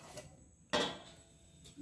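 A spatula moves sugar sweets (chinir naru) onto a plate, giving one sharp clatter in the middle against a quiet kitchen background and a few faint taps before and after.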